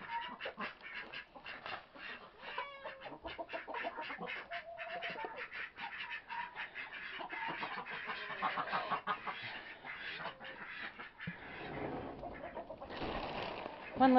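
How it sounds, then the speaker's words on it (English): A flock of backyard chickens and ducks clucking and quacking continuously, a dense overlapping chorus close by, with a voice talking briefly near the end. "evil chickens gonna get you."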